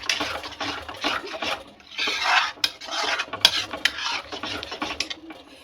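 Masala with tomato paste being stirred and fried in a pan, a busy scraping, rasping sizzle with irregular strokes, close and fairly loud.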